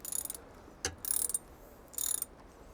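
Ratcheting clicks from a screw being tightened on the plastic gear housing of a Tohatsu 3.5hp four-stroke outboard, in three short close bursts with a single sharp knock between them.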